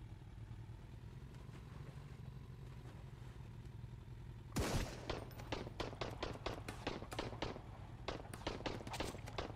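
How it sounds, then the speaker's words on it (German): Gunfire in the Sunkenland survival game: after a quiet hum of ambience, a sudden loud shot is followed by a rapid, irregular string of sharp cracks and bursts, close and punchy, with no talk. "Von wo schießen die denn jetzt,"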